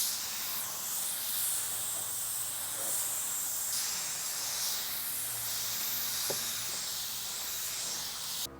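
Spray gun hisses a first coat of white paint onto a BMW K100 cafe racer part, a steady airy spray in long passes with brief pauses, fairly quiet and without talk.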